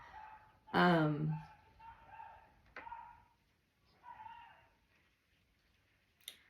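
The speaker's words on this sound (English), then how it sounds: "There's an unhappy dog out there." An unhappy dog outdoors gives a sharp, high yelp, followed by softer whines and whimpers. The sounds are faint and seem distant, with a person speaking quietly nearby.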